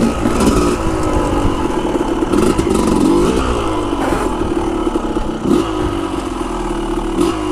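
A dirt bike engine rips along a forest trail, revving up and down in repeated surges with a rattling, clattery mid-pitched drone that stays close and loud throughout, with no talking.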